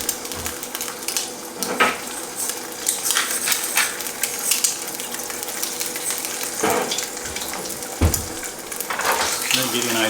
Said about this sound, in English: Look at that, it's frying up beautiful